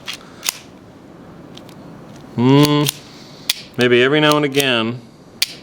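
Sharp metallic clicks and clacks from a firearm's action being pulled back and cocked, a few isolated snaps scattered between two stretches of someone talking close by.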